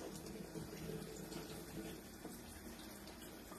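Tap water runs steadily into a sink while paint brushes are rinsed under it, a soft continuous splashing rush at low level with faint background murmur and no clear talk.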